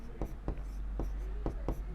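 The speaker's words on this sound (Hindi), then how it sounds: "तो हम प्रत्येक स्थिति को देखते हैं और लिखेंगे" Chalk or marker strokes on a board during a class 10 maths lesson on linear equations in two variables, a quick series of short scratchy taps and scrapes in uneven rhythm, close and fairly quiet.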